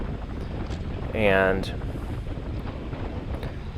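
Wind rushes steadily past a microphone on an exposed stretch of a bike circuit race, a constant low roar with a short spoken word cutting through.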